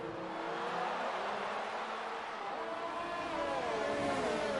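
A Williams racing car engine in an F1-style racing game at Singapore, a steady high-pitched drone with rising whine and shifting pitch, loud and continuous throughout.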